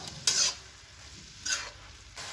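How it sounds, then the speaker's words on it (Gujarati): Chinese samosa filling is stirred in a hot pan with red chili sauce and green chili sauce, two sharp scraping strokes breaking through a steady sizzle. "હવે એક વખત બરાબર એને મિક્સ કરી લઈશું"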